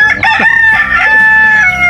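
A rooster crows loudly and close by, a long strained call, with chickens clucking alongside.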